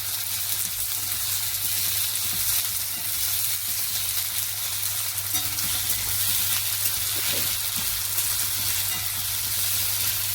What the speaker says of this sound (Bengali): পেঁয়াজ কুচানো বেশি লাগবে, তাই পেঁয়াজটাকে একটু ভেজে নেব ভালো করে।